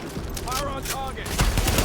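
Rapid bursts of gunfire from the shooter game The Division sit under a voice and other in-game sounds, with a heavier burst of shots closing the short moment.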